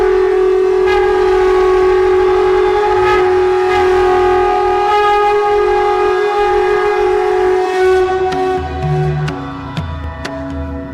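A conch shell is blown in one long, loud, steady blast that holds its pitch for several seconds before wavering and breaking toward the end.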